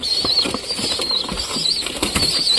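Pigeon chicks flap their wings in quick, close bursts as they are lifted out one by one, with soft rustling and faint cooing around the flapping and steady background hiss.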